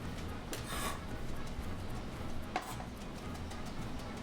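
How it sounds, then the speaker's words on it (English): A knife chopping lemon zest finer on a cutting board while a German meatball dish is prepared, a few faint, sharp taps over a steady kitchen background hum. "Then you can chop this a little finer for me."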